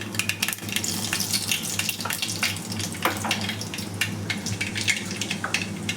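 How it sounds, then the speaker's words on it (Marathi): Cumin seeds crackling in hot oil in a cooking pot, a close, steady sizzle dotted with sharp pops and crackles, with a low hum underneath and no voices. "तडतडले की जिरे टाकून द्यायचे."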